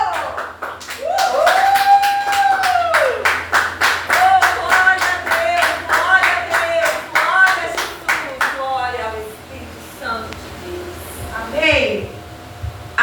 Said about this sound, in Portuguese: Pode aplaudir bem forte o Senhor.